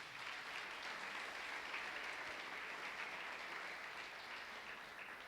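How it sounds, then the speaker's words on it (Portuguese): Audience applauding a pastor at a missionary conference, a continuous, even wash of many people clapping, heard from some distance and fairly quiet, lasting about five seconds. "Pode aplaudir o pastor,"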